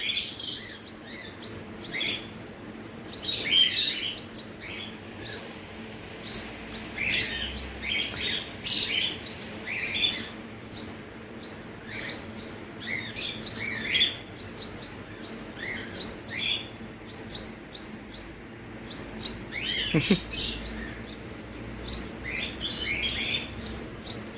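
Small birds chirp and twitter around a tree in quick, bright bursts that come and go throughout, some close and some farther off, with no talking.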